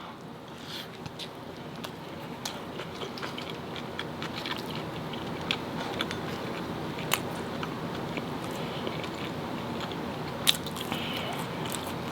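Close-up eating of homemade Five Guys style french fries, steady crunchy biting and chewing with small crackles throughout, no talking.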